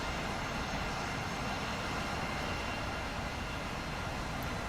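Aircraft engines droning in the War Thunder combat game, a steady, loud, broadband roar that holds unbroken throughout with no talking.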